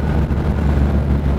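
A 1962 Chevrolet Biscayne's engine accelerating hard on a speed run, a loud continuous roar blended with wind rush from the moving car, heard alone.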